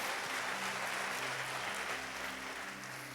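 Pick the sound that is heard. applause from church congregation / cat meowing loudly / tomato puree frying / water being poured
applause from church congregation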